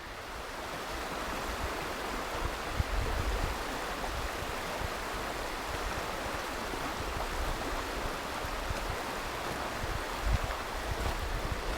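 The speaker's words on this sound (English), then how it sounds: "the relaxing ambience of the river" Continuous rushing water noise from a river at Ball's Falls, Ontario, steady and broad, flowing nearby, with no voices.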